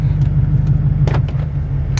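An LML diesel pickup truck idles loud and rough right after a cold start in wintry weather, a deep steady rumbling drone close by, with a few brief higher clatters over it and no speech.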